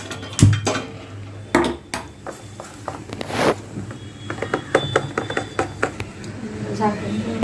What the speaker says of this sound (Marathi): आपण तवा गरम करायला ठेवूया